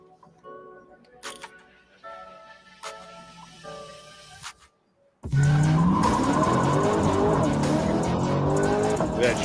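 A Corvette SVJ supercar speeds by, its roar cutting in abruptly and loudly after a quieter stretch of talk and clicks, a sustained engine blare with tire noise that fills the second half.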